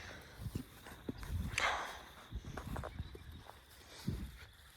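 Horse hooves clip-clop close by in an uneven walking rhythm of soft thuds, with faint rustling between the steps.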